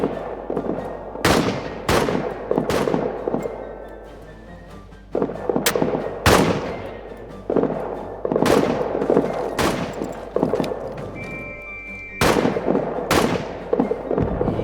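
Gunfire in World War I trenches in the video game All Quiet in the Trenches cracks out as a string of sharp, loud single shots at irregular intervals, some close and some echoing, over a low rumbling backdrop.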